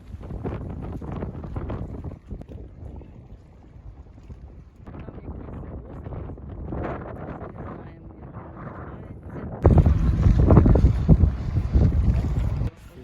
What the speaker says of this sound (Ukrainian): Трошки не пощастило з погодою, бо вітряно, а вітер тут холодний.